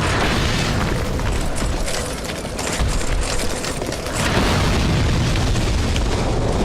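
Dark Souls 2 fire bomb blasts boom and crackle in dense, loud bursts, a continuous roar of explosive noise with a brief dip in the middle.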